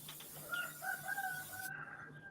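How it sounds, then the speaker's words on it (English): A rooster on a farm crows once, a distant, fairly faint cock-a-doodle-doo rising and trailing off, with no talk over it. "Who has a rooster?"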